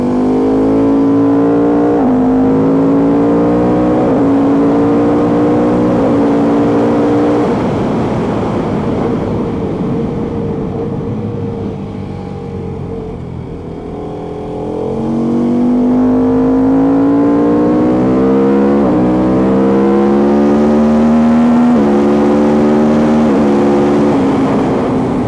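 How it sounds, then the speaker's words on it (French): KTM RC8 sport motorcycle fitted with a 1290 engine and an open airbox, accelerating hard through the gears with a loud, close engine roar and rising revs that dip briefly mid-run before climbing again. "Je sais pas si avec le son on entend trop le bruit de la boîte à air ouverte"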